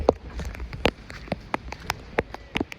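Heavy rain patters and drums irregularly on a surface, with sharp close drops standing out over a steady wet background hiss.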